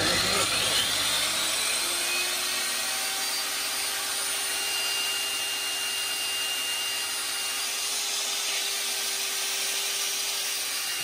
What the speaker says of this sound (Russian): Сначала включаем торцовку.